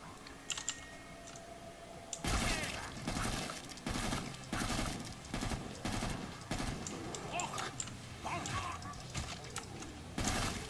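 Full-auto weapon fire in the shooter game Killing Floor 2, with loud, dense bursts of shots that repeat in clusters over a busy background of game noise.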